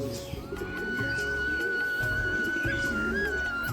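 A black-eyed Madras pigeon coos in low, repeated throaty bursts, close by at moderate volume, with a thin steady tone running underneath.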